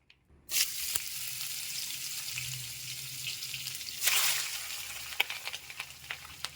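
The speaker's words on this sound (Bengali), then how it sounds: "কড়াই গরম হয়ে গেছে তেল দেব তেল দেখো আমার গরম হয়ে গেছে এবার আমি উচ্ছে আলুটা দিয়ে দেবো" Bitter gourd and potato pieces sizzle and fry in hot oil in a wok, a steady broad hiss that starts abruptly and swells louder midway, with occasional stirring clicks.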